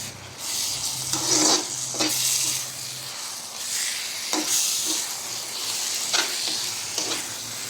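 Onions and paste fry in a pot with a steady loud sizzle, broken by several scraping stirs as the mixture is moved around, close and without talk.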